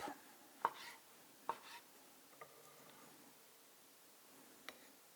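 A knife cuts through mango flesh on a board, giving a few sharp separate chopping taps spaced out over several seconds, each close and crisp against a quiet background.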